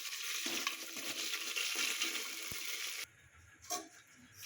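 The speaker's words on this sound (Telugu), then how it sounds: "వీటిని బాగా కలిపేసుకుందాం" Dried red chillies are stirred in a hot pan, giving a steady close sizzle with light scraping taps for about three seconds, then dropping to quieter clinks and a brief scrape.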